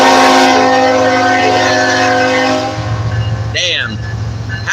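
A train passing very close by gives a loud, steady rumble with a sustained horn-like tone that fades, then a voice breaks in over the continuing rolling noise.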